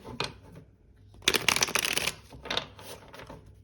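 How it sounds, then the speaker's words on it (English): Tarot cards riffle and shuffle in several quick bursts, a short flutter first, then a longer crisp riffle and two more brief shuffles, close up with no talking. "I will give the deck a few more shuffles"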